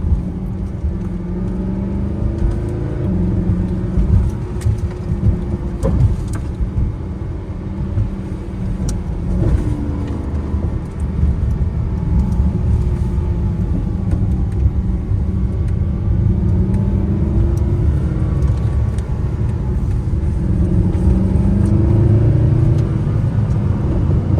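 A Mercedes SLS AMG GT Final Edition engine rumbles and revs continuously at close range, deep and loud throughout, with scattered crackles and pops from the exhaust.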